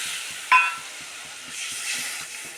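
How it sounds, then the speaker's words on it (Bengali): Water hits hot, frying spice paste for an egg curry in a pan, bursting into a steady steaming sizzle and hiss that continues at moderate level, with a faint regular ticking underneath. "এবার দিয়ে দেব পরিমাণ মতো জল"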